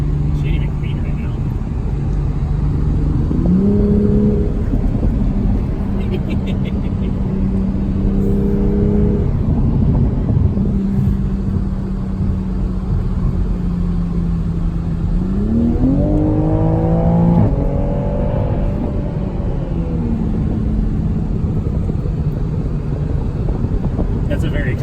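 Sports car engine, an A90 Supra or F80 M3, drones loudly throughout with several rising revs and gear changes, the strongest climb near the end, while people talk over it.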